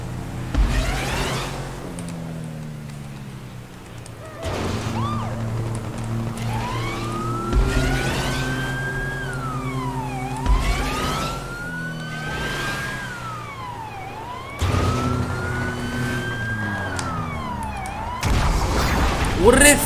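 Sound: police car siren in video game GTA 5

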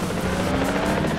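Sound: helicopter in the video game Batman Begins

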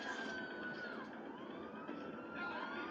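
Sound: police car siren from a video game

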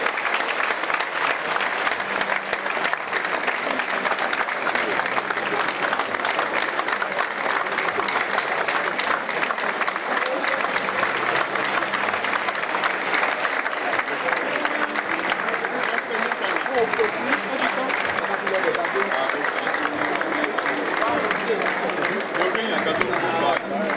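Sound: audience applauding survivors

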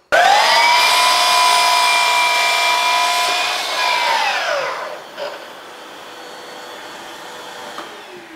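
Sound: miter saw cutting wood window trim

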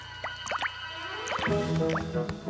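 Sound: water dripping from stalactites in a cave

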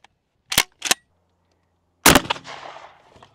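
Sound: shotgun firing a slug at a cinder block wall

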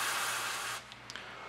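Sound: spraying onto a LiFePO4 battery's high temperature switch

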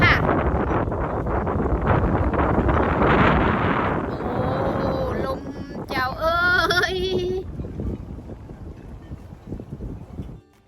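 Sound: strong wind blowing

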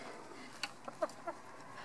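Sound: rescue hen clucking

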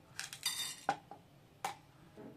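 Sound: small spoon scooping chana dal into a pan

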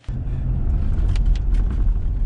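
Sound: inside a truck while driving

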